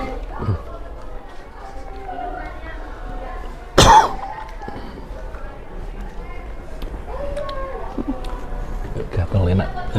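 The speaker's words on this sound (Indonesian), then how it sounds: "Maaf, aduh batuk." A single sharp cough bursts out partway through, loud and close, amid an ongoing conversation between several people at a podcast set in Takengon.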